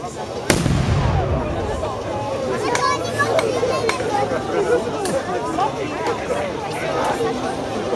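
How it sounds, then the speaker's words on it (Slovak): A 15th-century chamber gun fires a single sharp blast early on during a castle battle reenactment at Beckov, followed by a crowd chattering and calling out under scattered distant pops. "v tomto prípade tie najmodernejšie zbrane 15. storočia, tzv. Rýchlica, komorové dielo"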